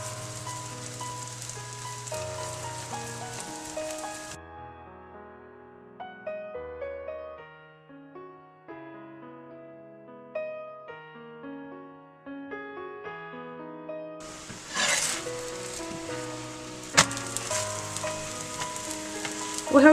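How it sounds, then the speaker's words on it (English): Aloo paratha sizzles in oil on a hot pan, with a steady frying hiss at the start and again toward the end, while soft melodic music carries through the quieter middle stretch. "We have to roast the paratha until both sides we get nice golden brown spots"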